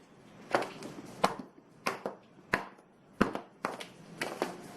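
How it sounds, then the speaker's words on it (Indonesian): A baking tin of soft pull-apart bread is banged down hard on a surface about eight times in an irregular rhythm, each a sharp, close thud with a short ring, no talking. "harus digubrak seperti ini, dihentakkan"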